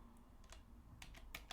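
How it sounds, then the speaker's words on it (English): Sparse, quiet keystrokes on a computer keyboard, a few isolated taps and a short cluster of clicks near the end, heard close against a faint background hum with no talk. "I was typing on the other screen."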